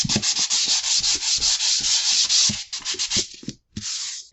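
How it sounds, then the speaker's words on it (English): Sandpaper rubbed by hand against a kitchen wall to remove sticky residue, close rhythmic scratchy back-and-forth strokes with a brief pause near the end. "Just sandpaper it."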